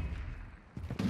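Gunfire bursts in a Call of Duty: Modern Warfare II match crack out in a couple of sharp volleys near the end, rising over a low rumbling game ambience.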